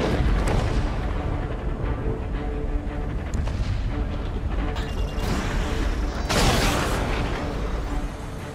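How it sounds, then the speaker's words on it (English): Missile strike in a video game, a deep rumbling detonation with heavy booms and a sharp blast swelling near the end, loud and close over continuous battle noise. "That's a confirmed direct hit by the missile."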